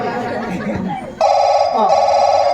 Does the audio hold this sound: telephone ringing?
yes